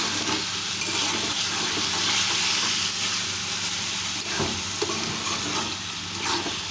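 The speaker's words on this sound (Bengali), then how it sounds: "মশলাটার সাথে একটু ভাজা ভাজা করে নিচ্ছি" Spices frying in a pan give off a steady sizzle with occasional stirring scrapes, close and moderately loud, with no talking.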